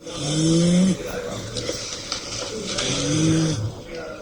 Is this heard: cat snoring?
yes